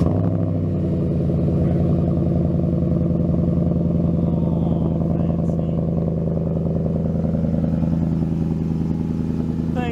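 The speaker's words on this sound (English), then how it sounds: "It's got a Roush exhaust on it." A 2014 Ford F-150 with a Roush exhaust idles close by with a deep, steady, throbbing rumble at an outdoor 4WD jamboree, continuous for the whole stretch with a faint rise near the end.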